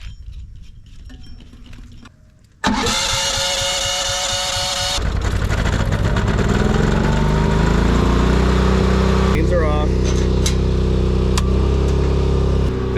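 Propane-fuelled backup generator for a homestead running during break-in: after a quiet start, it starts with a burst of noise, then settles into a loud, steady, droning hum, close by, with a few metallic clinks.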